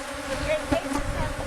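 Honeybees buzzing at an open hive during an inspection of a strong small-cell colony with an unlimited brood nest, a dense steady drone up close with a few louder passes near the ear.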